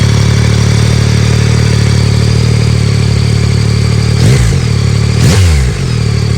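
A Yamaha MT-09 SP motorcycle idles at a standstill close up, a steady loud throbbing engine note, with two brief sharp throttle blips near the end.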